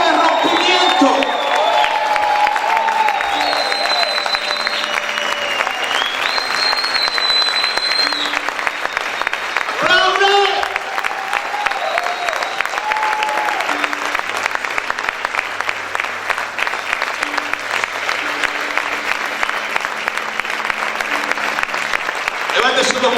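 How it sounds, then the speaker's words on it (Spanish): A church congregation applauds and cheers loudly and continuously, with shouts rising out of the crowd and music playing underneath, while a voice keeps going over the noise. "Aplaude, aplaude, grita en esta hora."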